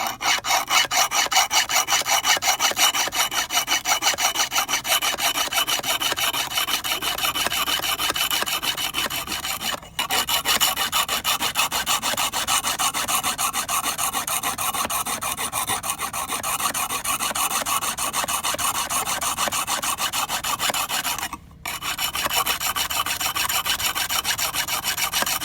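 Continuous rhythmic rasping of a metal file stroking back and forth along a serration, steady and close, with two brief pauses and no talking.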